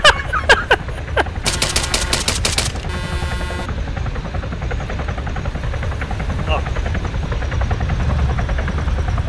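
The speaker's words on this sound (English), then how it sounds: "It's a Chinook." A Chinook helicopter in the video game Arma 3, its rotor thumping steadily through the clip, with bursts of machine-gun fire early on and voices heard in the mix.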